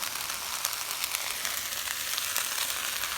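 A dense, even sizzle rises from a pan of fried rice as shrimp go in, a continuous hiss at steady loudness.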